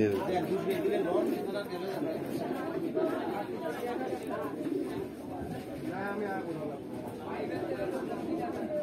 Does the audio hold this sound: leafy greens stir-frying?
no